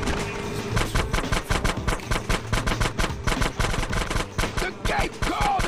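Rapid bursts of automatic gunfire rattle nonstop at close range as a gate is shot out in GTA San Andreas, with dense repeated shots filling the whole stretch.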